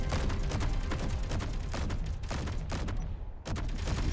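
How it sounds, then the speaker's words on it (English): Rapid sustained automatic gunfire from a strafing run in Space Engineers, dense loud bursts of shots rattling continuously with a brief pause near the end. "Make a strafing pass."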